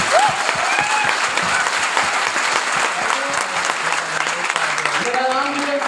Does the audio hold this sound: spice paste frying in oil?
no